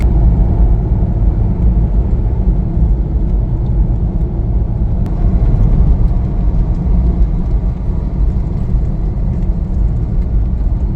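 A car drives down into the small town of Nelson on the way to a lake, giving a steady, loud road rumble and engine drone that continues without a break.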